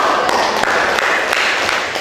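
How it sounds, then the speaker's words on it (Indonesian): A classroom audience claps for a student group after its presentation at a university teaching-practice session, producing a steady, dense patter of hands from many people that lasts a couple of seconds. "beri tepuk tangan untuk kelompok"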